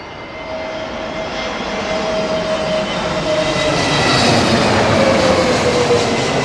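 Airliner engines roar at Heathrow Airport during a gusty landing, a loud broadband rumble with a whining tone that swells steadily as the jet passes close by.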